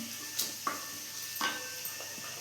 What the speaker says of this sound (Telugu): ఆయిల్ వేడయ్యాక కొద్దిగా మెంతులు ఒక స్పూన్ జీలకర్ర కొంచెం అలా వేసేసి